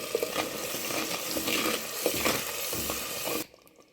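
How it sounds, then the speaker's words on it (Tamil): Ground masala paste fries with sautéed tomatoes in oil, a close, busy sizzle with stirring scrapes that cuts off abruptly near the end. "நல்லா தக்காளி வதங்கி எண்ணெய் பிரிஞ்சு வர ஆரம்பிச்சிச்சு அரைச்ச பேஸ்ட் ஆட் பண்ணிக்கலாம்"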